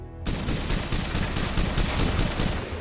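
A sustained burst of rapid automatic gunfire, loud and close, with shots hammering in quick steady succession for a few seconds.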